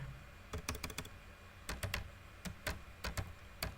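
Clustered keystrokes on a computer keyboard tap out Python code in short bursts, crisp and close, with pauses between groups and no talking.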